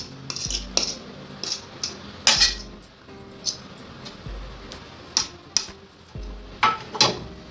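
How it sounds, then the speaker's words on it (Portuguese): A fork working butter into flour for pâte brisée quiche dough in a bowl, a series of sharp clinks and taps at an irregular rhythm with quiet pauses between, close and alone. "E nós vamos envolver toda a manteiga na farinha."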